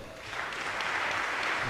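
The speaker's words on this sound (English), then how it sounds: "I think you can give them a round of applause." Audience applause at an organ recital, soft scattered clapping that swells and holds as a dense, even patter, heard from a distance and fairly quiet.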